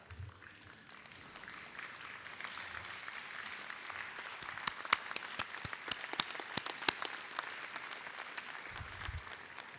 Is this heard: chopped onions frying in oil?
no